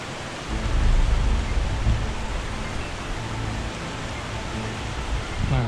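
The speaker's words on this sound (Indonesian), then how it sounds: "karena hujan nih." Steady heavy rain roars as a dense wash of noise near a cliff at Sanghyang Kenit, Bandung, with a low rumble swelling early on that suggests distant thunder.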